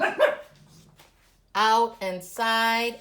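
After someone speaks briefly, dogs nearby bark in several loud, harmonic bursts, one after another.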